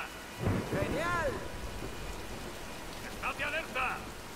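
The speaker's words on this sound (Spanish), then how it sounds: "¡Espera que pase la tormenta!" A thunderstorm with rain sets the scene in the Tomb Raider video game, a steady hiss of rain under low rumbles, with voices calling out twice.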